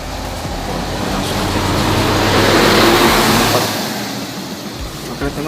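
A Sampago bus passes close by at a bus terminal entrance, its engine rumble swelling to a loud, broad roar and then fading away, with traffic noise around it.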